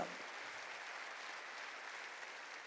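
Church congregation applauding together, a dense, steady wash of many hands clapping at even loudness throughout, with no voices heard.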